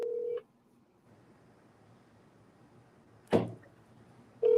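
A telephone being dialed gives a short touch-tone beep, then a dull click after a quiet hiss, and another beep at the end, all near and fairly soft.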